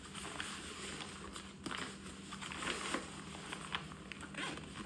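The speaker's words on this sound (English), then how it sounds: "So basically, you unzip it." A zipper being pulled open on a compression leg sleeve for an air-compressor leg massager, with a few quick rasping zips and light handling rustle close by, and no voices.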